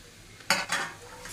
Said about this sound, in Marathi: कोथिंबीर घातली, व्यवस्थित मिक्स करून घ्यायचं आहे एकदा.